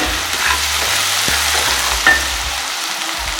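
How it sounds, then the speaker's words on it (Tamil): Onions with salt fry in a pan, giving a loud, continuous crackling sizzle with occasional soft stirring knocks and a steady low hum underneath. No voices. "இந்த வெங்காயம் வதக்க சொல்லவே தேவையான அளவு உப்பும் போட்டுடுங்க."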